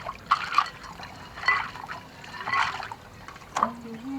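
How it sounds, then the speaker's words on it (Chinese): River snails are scrubbed and rinsed in water. Splashes and trickles recur at a steady pace, and a faint voice comes through in the background. "先把它洗一下，煮来吃。"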